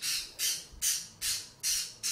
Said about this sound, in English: that's my birdie